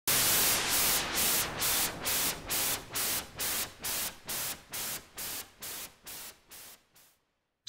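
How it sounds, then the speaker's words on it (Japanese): A HALion 6 synth noise sound effect pumps in rhythmic sidechain-style pulses, about a dozen evenly spaced whooshes of hissing static that grow steadily quieter until they fade out. "サイドチェーンがかかったようなノイズがだんだん小さい音になっていくテクニック"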